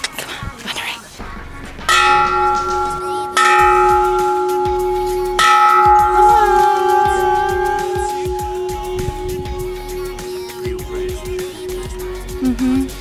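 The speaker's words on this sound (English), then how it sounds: "And this has a bell." A large bell is struck three times, each strike ringing out loud and resonant, then slowly fading with a long humming decay. Faint whispered voices are present.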